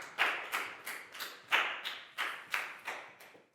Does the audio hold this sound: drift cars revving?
no